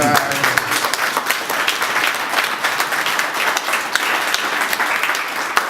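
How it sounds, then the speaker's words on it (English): At a Ghana Music Week launch event in New York, an audience applauds the mayor with loud, continuous clapping from many hands, a dense crackling patter holding steady from start to finish. "please help me in giving a round of applause to Mayor N.S."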